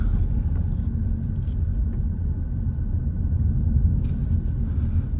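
A car drives along a narrow coastal road near Port des Canonge on Mallorca's Tramuntana coast, with a close, steady low engine and road rumble throughout and no talk.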